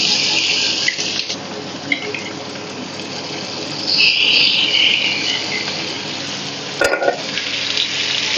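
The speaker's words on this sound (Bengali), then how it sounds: "তো চিকেনটা গ্রিল হচ্ছে এখন।" Marinated chicken grills on slow heat with a steady, close, hissing sizzle that runs throughout, with brief spits and pops now and then.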